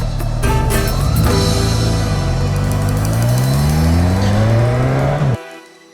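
A 2020 Suzuki Katana motorcycle ridden hard, its engine revving up through rising, falling tones with gear changes, loud and close, then abruptly cutting off to quiet near the end.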